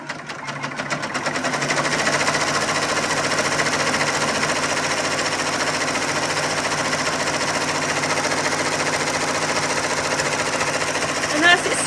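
A Happy Japan HCS3 commercial embroidery machine stitches at close range with a loud, steady, rapid mechanical chatter that runs continuously from start to finish after a brief quiet lead-in.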